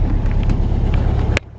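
A 1964 Volkswagen Beetle's air-cooled engine idles close by with a steady, loud, throbbing rumble that cuts off abruptly near the end.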